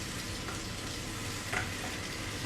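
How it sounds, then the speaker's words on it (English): Chilli chicken sizzles in a pan while being cooked for a chilli chicken and fried rice dish, a constant close hiss with a brief louder flare partway through. "Okay, so now there's a nice sizzle"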